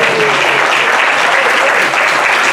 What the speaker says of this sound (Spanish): Fuerte el aplauso y bienvenido,